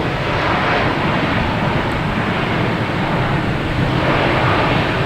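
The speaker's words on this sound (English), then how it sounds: "Takeoff and landing in the same frame." Airliner traffic at Boston Logan Airport, a loud, steady broadband jet roar that swells slightly toward the end, with no voices heard.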